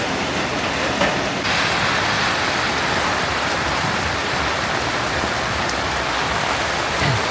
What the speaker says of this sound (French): je me vois pas marcher 30 minutes sous cette pluie